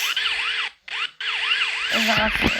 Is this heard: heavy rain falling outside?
no